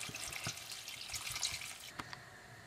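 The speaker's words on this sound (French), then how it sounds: "Quand les légumes sont bien revenus, ajoutez de l'eau." Water pours into a cooking pot of sautéed carrots, turnips and tomatoes for vegetarian couscous, a steady splashing stream that runs for about two seconds and then stops, leaving faint drips.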